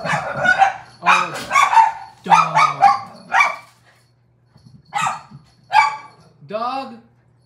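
A dog barks in several quick bursts of sharp yips and barks, close by and fairly loud, ending with a whining, rising bark, with household background hum between bursts.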